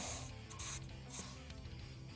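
A Badger airbrush sprays Spray Through Airbrush Cleaner in short close hissing bursts, separated by quiet gaps, faint and without talk.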